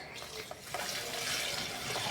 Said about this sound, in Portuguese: Eu jogo um pouquinho de água dentro.